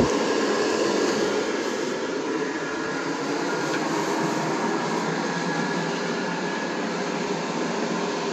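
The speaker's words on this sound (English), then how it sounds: "The fan is kind of loud." The blower fan of a Gemmy airblown 9-foot Headless Horseman inflatable runs as a loud, steady broadband whoosh and hum, constant and close throughout, with no voices.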